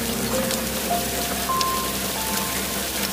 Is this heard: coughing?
no